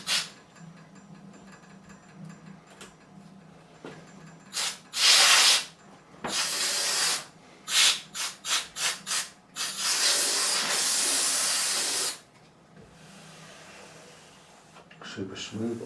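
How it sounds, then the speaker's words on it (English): Compressed air blasting over a Warwick Corvette Double Buck bass neck in short bursts, loud hissing spurts of varying length with gaps between, then one long sustained blast. "Let me just grab some compressed air."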